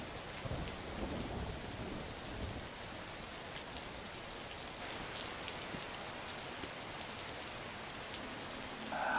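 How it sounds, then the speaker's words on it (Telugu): Steady rain falls in a dense, even hiss that stays soft and constant throughout, with no voices over it. "వర్షం తగ్గాక వెళ్ళొచ్చులే,"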